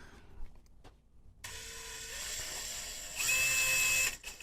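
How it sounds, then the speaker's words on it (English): A small drill bores fine holes into a Victorian card table to anchor repair putty, starting abruptly after a quiet moment as a steady, close whine that grows louder and higher near the end before cutting off. "I'm going to put some real fine holes"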